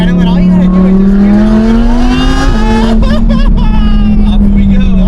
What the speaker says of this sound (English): So let's talk about the exhaust in this car, right? This thing sounds freaking insane.